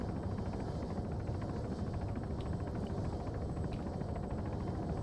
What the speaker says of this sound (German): ich bin im Helikopter